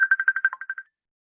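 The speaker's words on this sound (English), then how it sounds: "It could be someone's phone." A mobile phone ringtone from an unmuted participant on an online sourdough baking call, a quick rhythmic run of about ten bright electronic pulses that then stops, with no talk over it.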